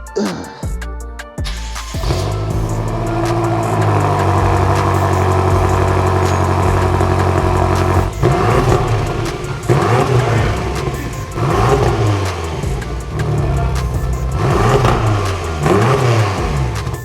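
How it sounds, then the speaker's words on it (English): A BMW M5 engine cold starts, cranking and firing up, then settles into a loud, steady idle with a few sharp revs rising and falling. "I wanna do a cold start on this beautiful M5."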